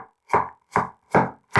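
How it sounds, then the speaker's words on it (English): A knife chops ground meat into small pieces on a board: four crisp, evenly spaced strikes, close and loud, with silence between them. "And cut it like this, into small pieces so it dissolves faster."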